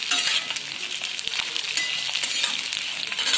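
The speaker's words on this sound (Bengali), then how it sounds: "আমি এবারে এগুলোকে নাড়াচাড়া করে নিচ্ছি" Capsicum and onion stir-fried for soybean manchurian, with a steady loud sizzle and repeated scraping and clattering from stirring throughout, close up and with no talking.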